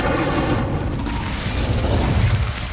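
A fiery Incendio spell blast in a video game, a loud sustained roaring burst of flame with low rumbling energy that fills the whole moment.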